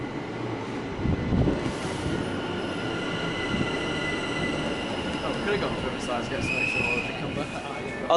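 A C2C train at Barking station in London rumbles along the platform with wheels squealing and screeching. People talk nearby over the steady roar.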